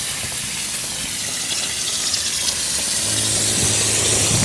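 Compressed air forces water and mist out of a residential inground sprinkler zone during a winterizing blowout, a steady loud hissing gush that continues unbroken, with no voices.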